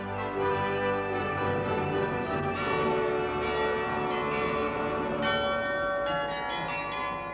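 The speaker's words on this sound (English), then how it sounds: "the kind you can still hear in the cathedral towers all over Belgium, where the carillon still plays" Carillon bells ring from a cathedral tower in Belgium, a dense, continuous peal of many overlapping bell tones sounding loud and sustained throughout, with no voices.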